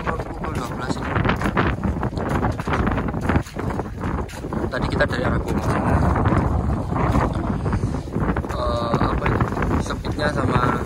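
Strong wind at sea roars and buffets the microphone aboard a fishing boat off Muncar. The gusty rush is loud and continuous for the whole stretch, and someone talks over it.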